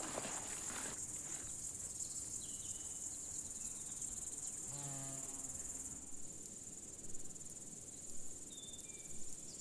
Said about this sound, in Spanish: El saltamontes de Pantano Grande se beneficia de tales medidas de conservación naturales.